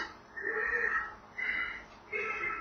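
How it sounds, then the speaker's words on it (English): Three long, rasping breaths in a row, each swelling and fading with short pauses between, heavy and labored, moderately close. "It just sounds like a very, very heavy, labored breathing."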